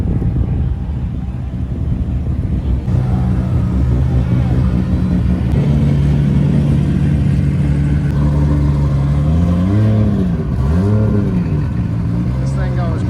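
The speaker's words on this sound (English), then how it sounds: "About to have a two-step comp right now." A Volkswagen GLI revs repeatedly at an Import Faceoff car show two-step launch competition, a loud sustained engine drone rising and dipping in pitch, with crowd noise and voices around it.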